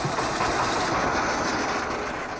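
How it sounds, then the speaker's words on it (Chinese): A fishing boat's motor runs on the Beijiang river with a steady, moderately loud droning hum throughout. "渔船嘅马达声再次响起"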